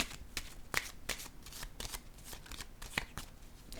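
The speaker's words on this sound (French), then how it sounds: "Je vais déposer une carte sur la prison." Playing cards handled and set down on a board game table, a quiet, close run of crisp snaps and flicks in an irregular rhythm.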